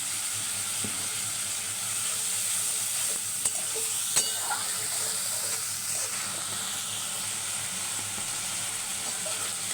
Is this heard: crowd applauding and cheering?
no